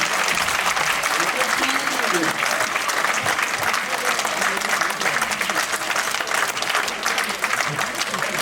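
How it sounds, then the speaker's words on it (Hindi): A poetry gathering audience at a youth kavi sammelan gives sustained, dense applause, an even wash of many hands clapping at steady loudness, with faint voices mixed underneath. "एक बार दोनों हाथ खड़े करके एक बार जोरदार तालियां मेरे सम्मान में बजा दीजिए"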